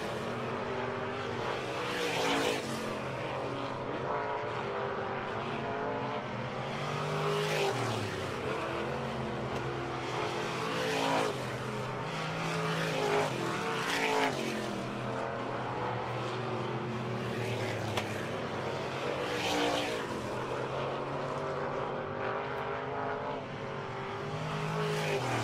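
Dirt late model race cars roar around Brownstown Speedway, their engines loud and continuous with rising and falling passes as cars sweep down the back straightaway.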